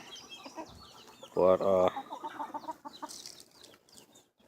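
Backyard chickens, one little, cluck while pecking local sweet corn off the cob, with a short burst of louder clucking and softer calls trailing off.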